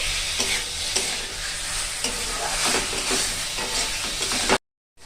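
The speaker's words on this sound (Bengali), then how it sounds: "দেবো আলু, আলু দিয়ে কিছুক্ষণ কষাবো।" Potatoes sauté in hot oil in a pan for a dhokar dalna curry, giving a steady loud sizzle and frying crackle with stirring scrapes throughout, then a sudden cut to silence near the end.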